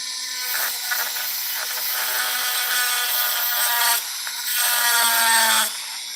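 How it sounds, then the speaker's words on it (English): A cutoff blade grinding through bone to shape guitar picks, a loud, steady high-pitched whine with a faint hum beneath. Brief dips near one and four seconds break the run, and the tone stops just before the end. "Cut it out with my cutoff blade"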